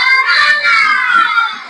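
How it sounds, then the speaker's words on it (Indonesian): Schoolchildren in a classroom chant the 'tepuk semangat' clapping cheer together, a steady, loud burst of massed young voices lasting under two seconds. "Tepuk semangat."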